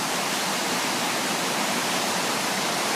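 River rushing through rapids during spring thaw, a steady, dense roar of water that stays loud and unbroken throughout, with no voices.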